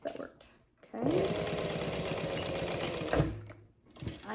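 A sewing machine with a walking foot stitches a backpack in a loud, steady mechanical run of about two seconds, starting and stopping abruptly, with brief handling sounds around it.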